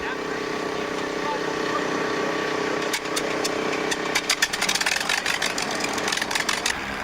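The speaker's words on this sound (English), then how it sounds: "Now on the tarmac at Edwards, the engines are fired up." Aircraft engines starting up on the tarmac at Edwards Air Force Base for the Voyager aircraft: a steady droning engine hum with a broadband rumble that grows busier and rougher about halfway through, with sharp ticking bursts.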